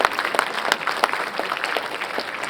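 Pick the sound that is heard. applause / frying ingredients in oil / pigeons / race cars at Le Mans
applause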